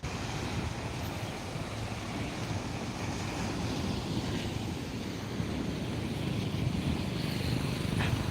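Rough sea surf rolling in steadily at Digha beach on the Bay of Bengal during ebb tide after a turbulent morning, a continuous broadband roar with wind buffeting the microphone and no talk.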